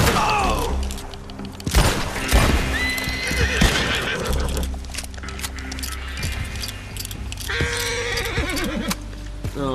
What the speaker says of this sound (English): I got the horse.